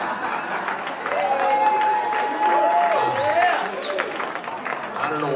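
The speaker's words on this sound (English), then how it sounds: "I don't know why you're cheering that." Audience at a sales speech cheering and applauding, a broad steady wash of crowd noise with a few whoops rising above it, at moderate loudness for the whole stretch.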